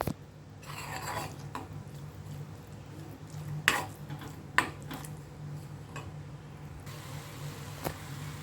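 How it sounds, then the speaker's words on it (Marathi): Cut jaggery melting in a pan for modak filling at home, with soft clinks of a spoon against the pan, a couple of sharper scrapes and faint stirring over a low steady hum. "गूळ वितळवून घेते आता"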